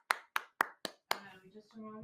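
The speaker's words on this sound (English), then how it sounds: "It's a little golf clap." Five sharp, evenly spaced hand claps ring out near and clear in a small, polite golf-style clap during a live telethon, followed by a voice talking.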